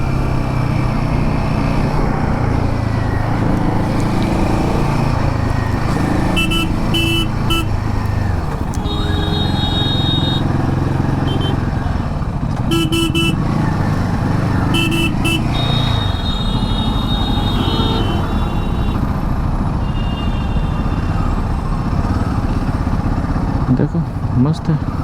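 An adventure motorcycle being ridden, its engine droning loudly and steadily for the whole stretch with shifts in pitch as it changes speed, while a rider talks over the engine noise.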